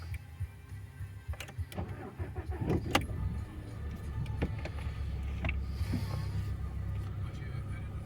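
An Audi A6 2.0 FSI with its oil pressure warning lit cranks and fires up, then settles into a steady low idle rumble heard up close, with a few faint clicks over it.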